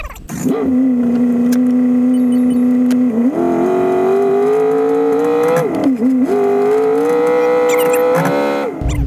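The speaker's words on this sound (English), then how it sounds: "start the car, put the car in gear to put it under a load, and then rev it up just a little bit" A 2011 Ford Mustang GT V8, in gear under load, idles loud and close, then rises in a series of stepped revs with brief dips between them, its engine note climbing and holding.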